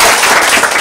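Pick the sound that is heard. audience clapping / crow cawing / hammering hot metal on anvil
audience clapping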